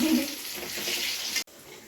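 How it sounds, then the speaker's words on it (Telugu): Chili and potato bajji fritters frying in hot oil at home for Dussehra, a steady close sizzling hiss that breaks off abruptly for an instant, then resumes more softly. "ఇంకా ఆలుగడ్డ బజ్జీలు అయితే అవుతున్నాయి"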